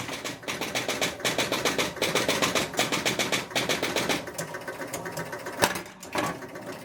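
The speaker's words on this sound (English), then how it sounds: "I'm going to turn the machine on. Let's hit the start button and see what happens." A Spirit of 76 pinball machine starting up and resetting gives off a fast, steady mechanical chatter of clicking relays and score reels. It is loud and continuous, then breaks into looser clacks near the end.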